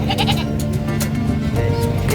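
Goats bleat repeatedly amid a noisy livestock market in San Carlos, the calls rising over a dense, busy crowd murmur.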